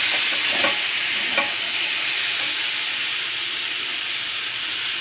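Fish head curry with pumpkin and potato stirred in a hot pan, a continuous loud sizzling hiss with a few brief scraping strokes near the start, close and with no talking.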